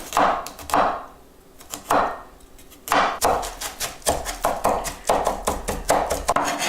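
A knife chops onion and garlic on a board while making Spanish tortilla de patatas: bursts of quick, crisp taps, sparse at first and then a steady, closer run of chops.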